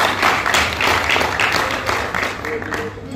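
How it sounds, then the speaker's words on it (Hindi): Audience clapping at a credit society annual general meeting in Mathura, a steady patter of many hands sustained throughout under a moderate, somewhat thin level, with a voice heard faintly over it. "लेकिन तालियों को ताकत नहीं आ रही है"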